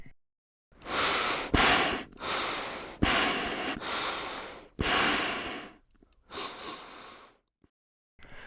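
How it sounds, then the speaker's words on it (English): Panic breathing in the Five Nights at Freddy's Security Breach video game, loud close gasping inhales and exhales through a mask, about seven sharp ragged breaths with short pauses between them. "Once we do, we start panic breathing."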